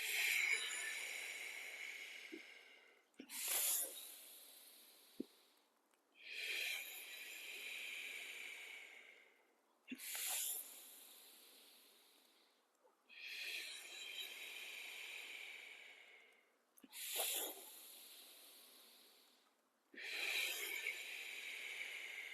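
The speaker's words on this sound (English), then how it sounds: "Let's take a few normal breaths." Slow, steady breathing exercise: seven long airy breaths alternate with short pauses, each breath a soft rushing hiss that swells and fades, close and quiet with no talking.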